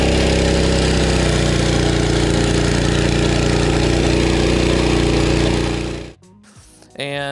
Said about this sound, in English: This particular mower has the Honda GX 160 engine, but this mower is really, really loud.